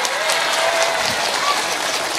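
An audience of women at a religious talk breaks into applause, a continuous hiss of many hands clapping that stays fairly loud and even for a couple of seconds, with faint voices underneath.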